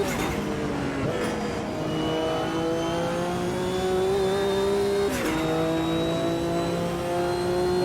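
Race car engines in the Automobilista 2 video game, during a sportscar championship race, roar loudly and steadily with rising and shifting pitch, including gear changes around one and five seconds, without talk.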